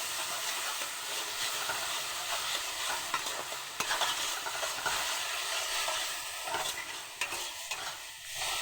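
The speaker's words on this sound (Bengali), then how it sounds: "মশলাটা একটু কষিয়ে নেব।" Mustard and poppy seed spice paste fries and sizzles in a pan while being stirred steadily, a close, continuous crackle with scraping strokes throughout and no talking.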